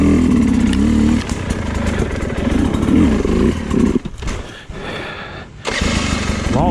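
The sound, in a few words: Sherco dirt bike engine while riding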